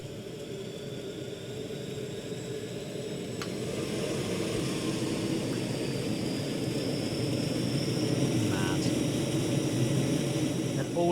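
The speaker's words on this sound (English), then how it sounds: "you want to hear the APU startup sound." An L-1011 TriStar APU spools up in a flight simulator with a steady roaring, hissing whine that grows louder and fuller over the span.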